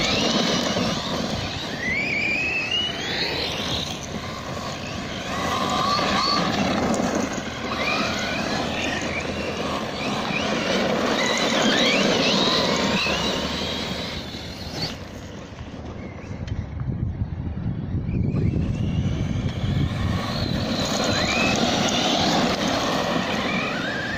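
A ZD Racing Pirate 2 RC car on a Turnigy XK-4074 2000KV motor runs at full throttle, a high electric whine rising and falling steadily over outdoor rumble, with one short dip midway.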